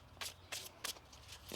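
Tarot cards are shuffled in quiet, close, crisp riffling bursts, four or five quick rustles in a row over a faint low hum, with no voices.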